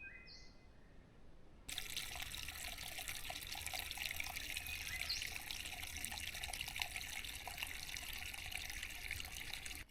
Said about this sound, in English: I've never seen the river actually flowing